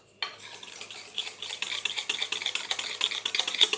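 Homemade roll-on deodorant mixture being stirred briskly in a small container, rapid rhythmic clinking and tapping of a utensil against the sides, close and continuous, no talking.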